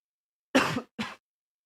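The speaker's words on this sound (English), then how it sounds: "I just had a little cough there" Two short coughs close to the mic, a longer one then a brief second, followed by silence.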